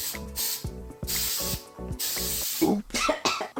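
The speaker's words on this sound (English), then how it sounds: "I'm going to just make sure all my wispies are sprayed down." A hairspray can sprays down loose hair wisps with a rapid series of short, sharp hissing bursts, close and fairly loud, each puff separated by brief gaps.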